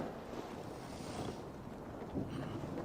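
Wind blows steadily in an Assassin's Creed video game, a broad rushing gust with faint waves or sea noise beneath it.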